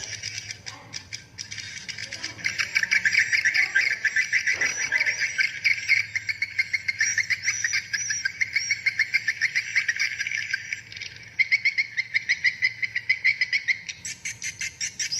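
Swiftlet calls played back from a PJW Pelangi Jaya Walet editor recording, a dense, continuous stream of high, rapid chirping and clicking twitters with rhythmic pulses, loud and close throughout with no talking.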